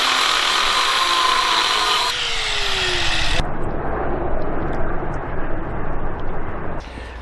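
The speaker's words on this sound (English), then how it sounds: "it's not a bad idea to come back here and back gouge all of this where it looks like it's thin" A power tool grinds back along a cracked repair, making a loud, continuous abrasive whine that shifts pitch partway through and then settles into a rougher grinding.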